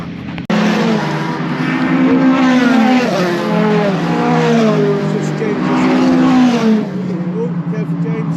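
Pickup trucks race around Pembrey Circuit in Wales, their engines roaring loud and steady with rising and falling revs for several seconds. Crowd or commentary voices mix faintly under the engine noise.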